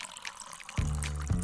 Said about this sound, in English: In a vessel, add water